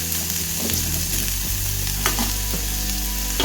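Ingredients for kara paniyaram are sautéed in a pan with a close sizzle, broken by a few quick scraping strokes of a spatula against the pan and a low background hum; no speech.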